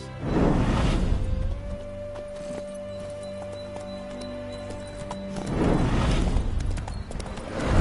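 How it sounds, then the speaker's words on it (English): Horse hooves clip-clop steadily, with a neigh, from a mount in The Witcher video game, while voices talk at the start and end. "Bloody fine mount. Good stance, powerful rump, stable withers."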